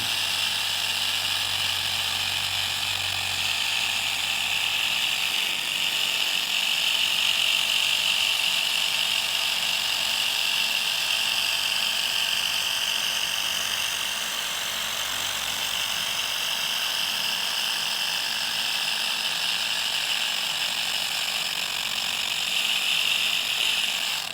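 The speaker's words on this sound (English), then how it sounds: "we're moving the polisher at a nice clip, a nice speed here" A polisher running on faded plastic automotive trim, a steady high-pitched whir that holds evenly and continuously at close range with no talk.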